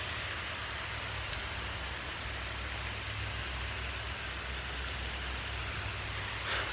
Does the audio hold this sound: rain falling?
yes